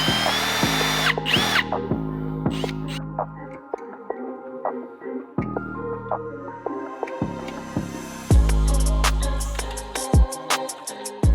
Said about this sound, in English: Quick little drill and tap,